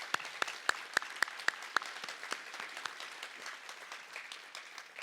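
Audience at a college arts and sciences hall of fame ceremony applauding honorees: a burst of sharp, distinct claps that thickens into steady applause and then gradually thins and fades.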